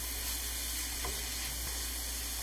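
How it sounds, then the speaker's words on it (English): Carrots and onions frying together in oil for borscht, a constant dense sizzle with a few faint stirring taps, close and fairly loud without speech. "Adding carrots to the onions, and we fried it all together"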